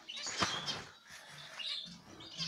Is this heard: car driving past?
no